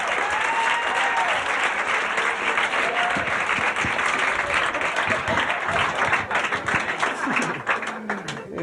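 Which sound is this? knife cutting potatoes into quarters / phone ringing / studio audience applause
studio audience applause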